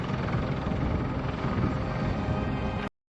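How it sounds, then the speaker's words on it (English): A CH-53E Super Stallion heavy military helicopter roars steadily at close range, a dense rotor and engine drone that cuts off abruptly near the end. "Meet the CH-53E Super Stallion, the heaviest helicopter in the United States military."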